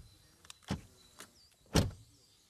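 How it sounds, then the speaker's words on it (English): Door of a 2023 VW ID.7 car shutting, with two distinct thuds about a second apart, the second louder and fuller, amid faint quiet mechanical whirring. "Door closing sound."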